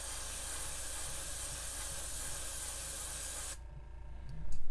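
An aerosol can sprays black paint through a stencil onto the back of a fishing lure, a steady loud hiss lasting several seconds before it cuts off, followed by faint handling clatter.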